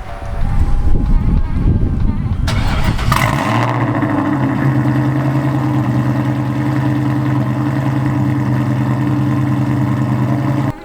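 A car's engine starts up and settles into a steady, loud idle as the car is readied to be rolled out onto ramps, preceded by a couple of seconds of handling noise.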